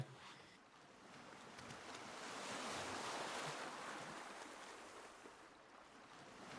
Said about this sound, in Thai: เสียงคลื่น